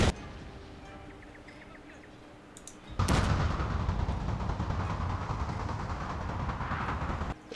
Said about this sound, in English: while the artillery is doing their work